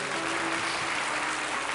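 Audience clapping at a televised pre-dawn religious program, a short, even burst of applause from many people with a faint steady tone underneath.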